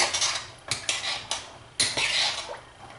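A utensil stirs ingredients in a pot for a baked ham meal, giving several sharp metallic clinks and scrapes close by in an irregular rhythm.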